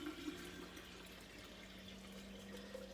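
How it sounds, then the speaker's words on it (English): Dandelion liquid poured from a jar through a strainer and funnel, a steady continuous trickle and gurgle of liquid lasting throughout, close and moderately loud with no talking. "Then I'm going to go ahead and pour it into the funnel just to like the strainer, just to like double strain it."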